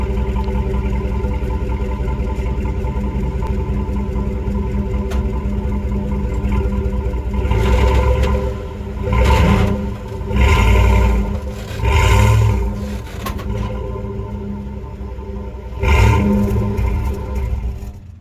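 A Ford F-150 pickup engine idles steadily in drive, then swells in several deep surging revs and roars before settling back to a low, close rumble.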